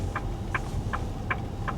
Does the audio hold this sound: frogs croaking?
yes